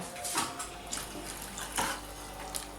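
Water pours steadily into a cooking pan of rice, a faint continuous splashing and trickling with small irregular bursts throughout.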